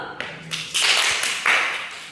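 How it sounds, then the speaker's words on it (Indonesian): Classroom applause breaks out in two short, bright bursts of clapping nearby, each swelling and fading within about a second. "Tepuk tangan dulu."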